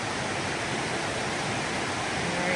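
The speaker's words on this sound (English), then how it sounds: "I guess this waterfall is probably called 13 Falls" Steady roar of a waterfall at 13 Falls along the Pemigewasset wilderness, a dense continuous rush of falling water heard close by and alone, with no voices.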